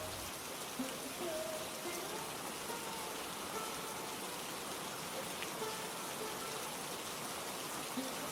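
Steady rain falls outside a poor family's home at night, a dense even hiss continuing without pause throughout.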